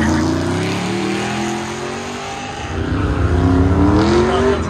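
A Ford Mustang accelerates hard on an autocross course at a Goodguys West Coast Nationals event, its loud engine note climbing and dipping through gear changes, heard alone.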